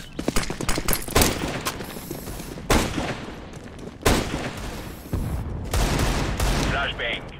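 Decoy grenade in CS:GO spitting out fake gunfire, a rapid fusillade of shots with sharp bangs at intervals, loud and close amid other game noise.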